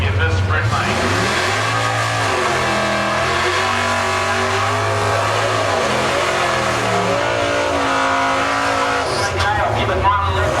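Holden VN Commodore and a utility at a drag strip, engines revving loudly and continuously with rising and falling pitch, a steady roar throughout with commentary voices underneath.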